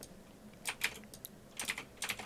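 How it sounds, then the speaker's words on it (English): Computer keyboard keys are tapped in two quick bursts of clicks close to the microphone, separated by a short pause, in a quiet room. "Oh, I keep hitting the keyboard wrong."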